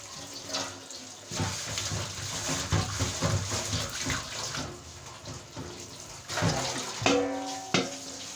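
Running tap water splashes over a dish being washed in a home kitchen sink, a steady close gush with clatter and shifting splashes throughout, no talking.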